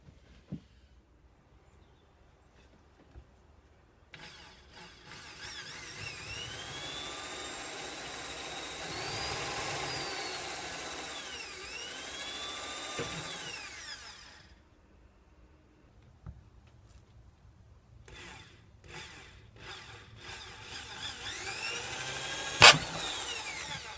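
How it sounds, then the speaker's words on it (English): A power drill runs in short bursts, drilling small pilot holes for an arcade cabinet, rising in pitch as it bites, with quieter pauses and rattling between passes. "So we're going to creep up on these sizes by drilling some"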